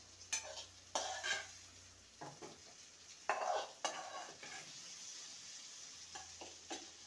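Fried potato pieces tipped into hot oily masala and stirred while cooking long beans, giving scraping stirs and bursts of sizzling with quieter frying between, close and moderate in level.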